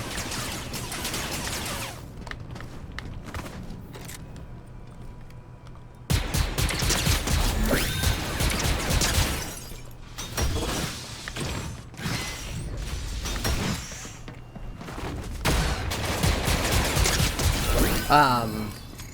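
Rapid Fortnite blaster fire in long bursts, loud and busy, with mechanical clanks and crashes between volleys and no talking.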